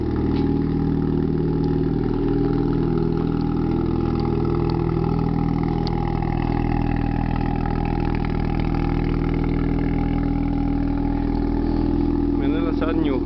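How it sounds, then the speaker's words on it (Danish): Race car engine running steadily after a jump start from a booster battery, a loud, close, continuous idle with a constant low rumble, while someone talks over it. "puttede jeg lige noget startbatteri på og fik den i gang uden problemer"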